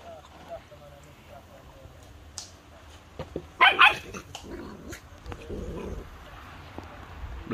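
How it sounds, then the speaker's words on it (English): A dog barks in a short loud burst amid an outdoor cooking scene for curry chicken and white rice, with birds and background voices around it. "Control the dog, man."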